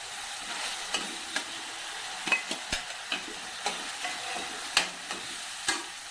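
Onion and tomato fry in a pan with a steady soft sizzle, while a spoon stirs and scrapes against the pan in scattered sharp clinks, close and alone.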